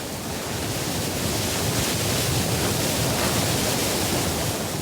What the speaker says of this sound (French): Le vent est si fort qu'il peut déstabiliser une cordée.